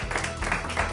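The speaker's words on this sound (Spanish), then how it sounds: "un aplauso para este hotel maravilloso" Studio audience applauding for a hotel on a live Argentine television show, a steady wash of clapping lasting about a second with no voices over it.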